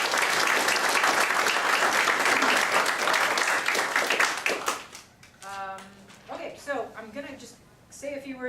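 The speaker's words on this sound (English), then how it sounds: "So, round of applause to you guys" A team gives a round of applause at the end of its season, dense loud clapping for about five seconds before it thins into scattered claps while a voice speaks.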